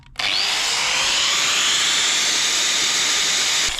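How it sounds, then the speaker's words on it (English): Angle grinder run from an EcoFlow power bank: a loud, continuous high-pitched whine that spins up fast and holds steady for over three seconds, with no talking. "Can run the grinder like that."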